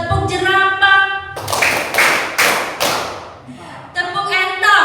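Children's rhythmic clapping game in a classroom, a few quick loud claps and thumps in a short pattern, set between spoken prompts from a teacher.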